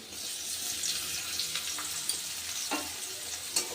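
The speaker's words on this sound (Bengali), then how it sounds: "পেঁয়াজগুলো আমি আলুর সাথে হালকা ভেজে নেব" Chopped onions with potatoes frying in oil, a steady broadband sizzle with occasional stirring clinks and scrapes.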